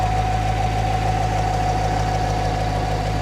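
A Ford Mustang with a 100,000-mile Coyote engine idling steadily up close, a constant low hum with an even mechanical whine and no voices over it.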